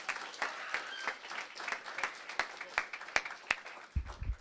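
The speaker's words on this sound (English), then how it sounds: "Let's give her a round of applause." Audience at a virtual conference gives a round of applause: sparse, distinct individual claps in an irregular rhythm, moderately faint, with a low thump near the end.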